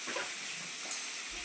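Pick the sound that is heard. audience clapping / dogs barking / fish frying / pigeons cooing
fish frying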